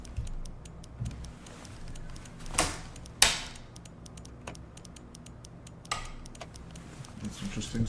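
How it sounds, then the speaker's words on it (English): A computer keyboard knocks against a switch during a flight simulator session, producing scattered sharp clicks and taps at irregular intervals over a low steady hum, with a couple of louder knocks. "Oh, it was my keyboard hitting a switch."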